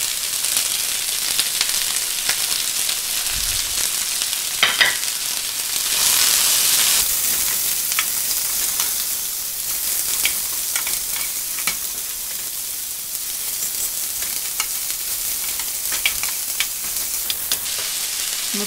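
Chopped cabbage and green peas sizzle and crackle loudly in a hot pan, with intermittent scraping and clattering as a spoon stirs them, steady frying hiss throughout and no voices.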